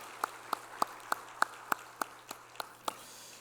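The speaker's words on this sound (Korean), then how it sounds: "우리 박수 한번 해드릴까요?" Ten sparse, evenly spaced hand claps ring out in a reverberant church during a Sunday service, faint and slow, like a small scattered group clapping.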